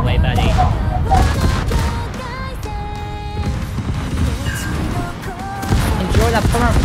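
A naval gun salvo fires in a World of Warships clan battle, giving dense, overlapping booms and rumbling blasts that stay loud throughout among other battle noise.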